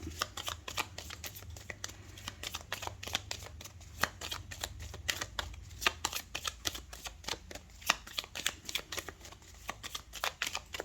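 Tarot cards are shuffled and drawn in quick close bursts, a rapid riffling flutter of cards repeating steadily throughout with soft slaps between, quiet and nearby, no talk.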